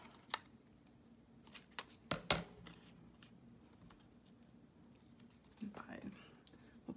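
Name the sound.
scissors cutting out paper word for Bible journal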